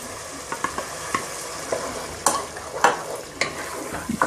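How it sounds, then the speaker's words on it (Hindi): Yogurt being fried and stirred with softened tomatoes in a pan for veg tahari, giving a soft continuous sizzle broken by repeated scraping stir strokes, close and fairly quiet with no talking. "दही को मैं अच्छे से भून ली"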